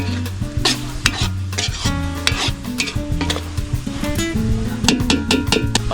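Beef lung sizzles and spatters in hot oil in a pan while a utensil stirs and scrapes repeatedly, close and busy throughout.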